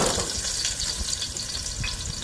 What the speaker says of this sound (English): put a couple slivers of garlic in here. And you let it cook around.